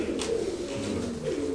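Pigeons kept by a Punjabi pigeon-flying family coo in soft, low repeated phrases close by, a steady murmur with no speech over it.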